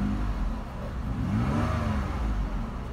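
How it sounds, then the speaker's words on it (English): A 2006 Pontiac G6 car engine runs steadily close by with a low, even drone, its pitch rising and falling slightly as it revs for about three seconds, with no talking. "Motor sound good."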